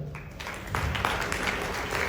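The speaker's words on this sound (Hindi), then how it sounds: "आपकी जोरदार तालियों के साथ प्लीज़ वेलकम" Audience clapping at an awards ceremony stage welcome, starting thin and swelling at about three quarters of a second into a steady, dense applause that fills the room.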